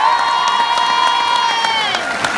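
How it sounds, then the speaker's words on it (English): A loud audience at a stage show cheers and whoops continuously, with high-pitched children's voices shouting over clapping throughout the short burst. "Give them a special round of applause"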